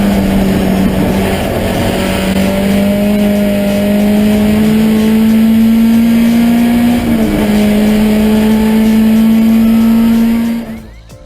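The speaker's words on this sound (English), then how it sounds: "Here's his little 510 ripping up Laguna Seca with that Rebello built engine screaming" A Datsun 510 race car with a 235 hp Rebello-built engine laps Laguna Seca. A loud, close engine scream holds a sustained high pitch that climbs slowly, dips briefly at a shift, then cuts off abruptly at the end.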